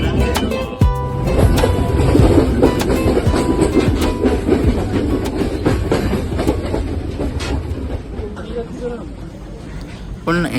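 Passenger train rolling through a station in Sri Lanka, loud and close, with wheel clatter, rumbling cars and sharp metallic clicks continuing throughout, plus a squeal near the start and crowd babble mixed underneath.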